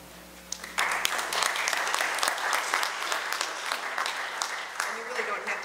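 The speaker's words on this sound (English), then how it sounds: "you really don't have to clap after every poem" An audience at Exeter Town Hall breaks into applause after a poem is performed, a dense, lively burst of many hands clapping that rises sharply and holds steady with scattered louder claps.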